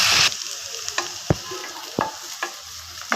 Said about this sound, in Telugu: ఉల్లిపాయలు ఎర్రగా వేగాలి.